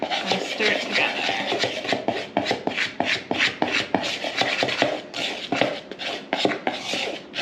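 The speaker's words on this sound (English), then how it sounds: "I'm just gonna use a spoon and stir it together." A spoon stirs dry flour, cornstarch, baking powder, salt and cocoa powder together in a bowl, making close, rhythmic scraping strokes with a gritty rasp, repeated steadily while a person speaks intermittently.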